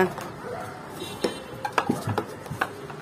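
Plastic cups clatter and knock together in quick, uneven bursts, close by, with faint voices and room noise in the background.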